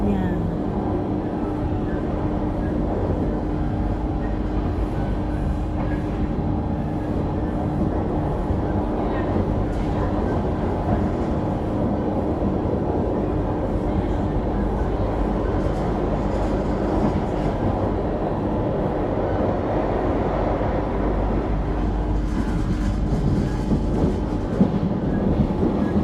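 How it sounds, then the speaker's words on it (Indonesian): A passenger train near Sintra, Portugal, rumbles and rattles steadily for the whole stretch, heard loud from inside the carriage with a constant low drone and occasional clatter, while people talk faintly in the background. "Kereta yang berhenti ini sampai stasiun berikutnya."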